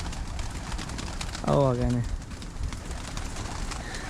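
Pigeons of a high-flying breed feed on grain outside, and one clear, short coo rises above a noisy outdoor background while someone talks.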